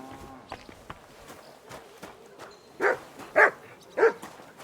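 A dog in Kingdom Come: Deliverance II barks three times in quick succession, fairly close, after a quiet stretch of faint footsteps and small movement sounds.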